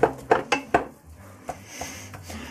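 A frying pan of minced meat clanks and scrapes on a stove, several sharp metallic knocks in quick succession followed by softer, sparser handling sounds, close and with no voices.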